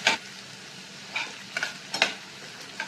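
Onion fries with crushed ginger and garlic for veg pulao, with a quiet continuous sizzle and a few scattered scraping stirs of a spoon against the pan.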